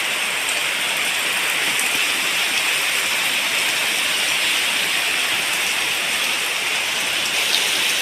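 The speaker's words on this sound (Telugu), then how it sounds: "మామూలు వర్షం కాదు ఫ్రెండ్స్" Heavy rain pours down in a loud, unbroken rush of dense hiss that holds steady from start to finish, with no other sounds standing out.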